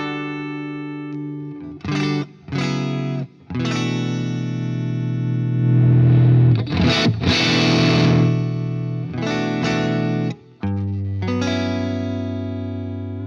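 An electric guitar played through a Marshall amplifier with heavy distortion, loud and sustained chords ringing out in bursts with brief gaps, strummed riffs alone with no talking.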